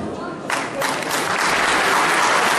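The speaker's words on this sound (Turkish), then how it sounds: "Küçücük alkışlar bu büyük işler için gelmiyor." A small audience at a hometown association evening event starts clapping, quiet at first and then swelling to full, steady applause that holds to the end.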